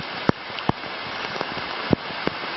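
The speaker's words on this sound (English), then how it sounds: "Definitely raining." Rain on the Appalachian Trail in Georgia gives a steady hiss with occasional sharp drop taps close by, and no voices.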